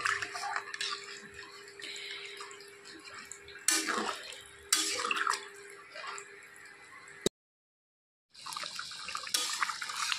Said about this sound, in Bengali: ঝোলটা একটু বেশি দিচ্ছি কারণ চালটা আছে ওটা ফুটবে